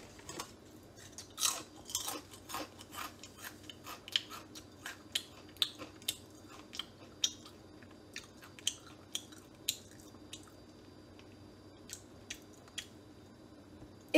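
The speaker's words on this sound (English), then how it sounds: "If you chew the chips enough, you get the same effect." A handful of potato chips being chewed close up, a steady run of sharp, crisp crunches over a low background hum, with no talking.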